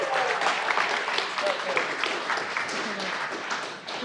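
Applause from the audience at a Seattle city council meeting, a dense sustained clapping that fills the room and tapers slightly at the end.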